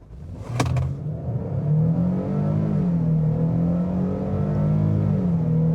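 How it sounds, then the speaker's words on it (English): A 2025 Nissan Frontier PRO-4X V6 pickup accelerating flat out from a standstill, a steady loud engine drone that rises in pitch through the run, with a brief sharp click near the start. "Nice sound from that V6."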